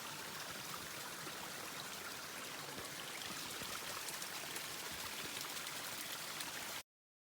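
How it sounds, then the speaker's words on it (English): A mountain stream running down from the hill across a hiking trail near Boulder Creek makes a steady, even rush and trickle of water, faint and continuous, before cutting off abruptly. "we cross that bit of water coming down from the hill"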